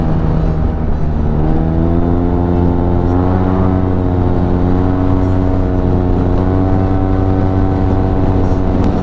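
Yamaha TMAX TechMax scooter (2023) fitted with a Malossi full-system exhaust during spirited riding, giving a steady, loud engine drone with rising harmonic pitch and wind rush throughout, no talk.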